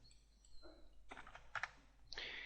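Keys tapped on a computer keyboard while entering a number into CAD software, a few soft, quick clicks in short bursts, close and quiet with faint room hiss.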